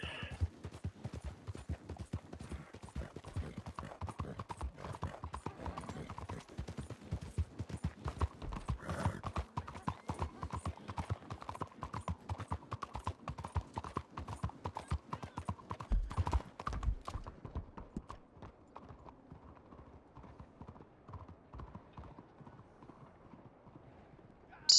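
In the Red Dead Online video game, a horse's hooves clip-clop in a steady rapid rhythm for most of the stretch, moderately loud, then they thin out and fade away as the rider passes.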